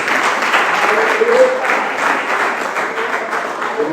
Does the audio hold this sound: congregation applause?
yes